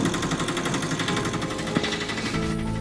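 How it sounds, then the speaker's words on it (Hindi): An auto rickshaw engine in a cartoon, a close, steady rattling putter with fast mechanical pulsing that holds throughout, a brief clunk partway through. "तभी इन लोगों को ऑटो की आवाज सुनाई देती है"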